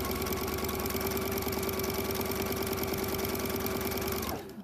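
A sewing machine runs continuously as it stitches quilt fabric pieces for flying geese blocks, a steady close mechanical whir that cuts off abruptly at the end.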